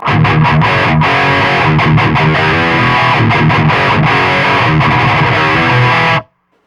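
Electric guitar through a Joyo Zombie II overdrive pedal plays a gritty, buzzy chordal riff continuously, then cuts off abruptly near the end.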